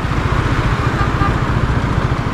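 A KTM Duke 250 motorcycle engine runs steadily at close range, a continuous loud throbbing drone with a fast, even pulse and no speech.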